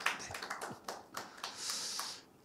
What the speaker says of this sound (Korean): 우리 수고의 격려의 박수 한번 같이 나눠주면 감사하겠습니다